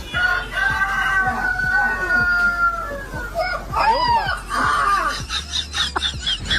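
A dog howls in drawn-out, rising and falling wails that imitate a rooster's crow, over steady background noise and repeated soft thumps.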